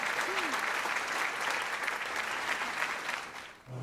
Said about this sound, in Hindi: लड़कियां इसके लिए ताली बजा रही हैं बॉस